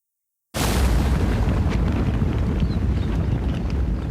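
After a moment of silence, an explosion in a ship's engine room bursts in abruptly and rolls on as a loud, dense, continuous roar that barely fades to the end.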